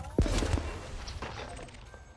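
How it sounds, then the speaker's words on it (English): An abrasion blaster in the Elite Dangerous video game firing at an asteroid to chip off fragments, a few sharp blasts at the start followed by fainter, scattered impacts. "now we can start using the abrasion blaster"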